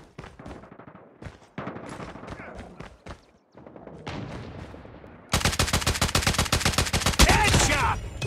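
Rapid bursts of automatic gunfire in Call of Duty Mobile, loud and close, building from broken volleys into a dense sustained stream of shots.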